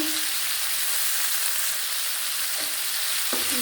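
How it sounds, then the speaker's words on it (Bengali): Prawns fry with salt and turmeric in a hot pan, making a continuous loud sizzle with a couple of brief scraping stirs near the end, close and with no talk. "একটু নাড়াচাড়া করছে"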